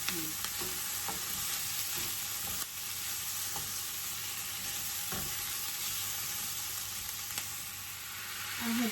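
Chicken pieces browning in a pan with turmeric, for Filipino chicken tinola, sizzle and fry steadily throughout, with occasional stirring scrapes over the continuous crackle.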